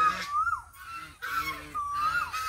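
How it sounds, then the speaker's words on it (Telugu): Ducks on a natural farm honk and call loudly and nearby in repeated bursts, with a couple of rising-falling cries and brief gaps between calls. "చూడండి రాగానే బాతులు ఎట్లా అరుస్తున్నాయి"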